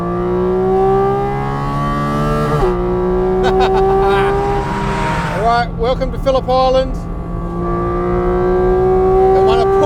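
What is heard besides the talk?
Porsche 718 Cayman GT4 RS engine noise on track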